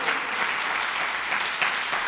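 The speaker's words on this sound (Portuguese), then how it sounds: "Você pode dar um aplauso ao Senhor aí?" Congregation applauding inside a church during a sermon, a dense steady clapping that fills the room at even loudness throughout, with no voices over it.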